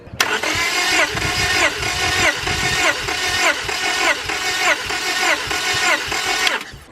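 A Honda Prelude engine cranks over steadily on the starter with no fuel for a compression test, giving a rhythmic, evenly pulsing whirr for several seconds close by before cutting off.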